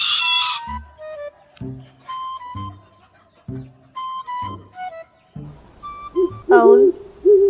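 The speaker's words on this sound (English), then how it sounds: "cock," A rooster crows in a drawn-out call near the end, following a series of short, separate bird calls from other animals; the sounds come in distinct bursts with quiet gaps between them.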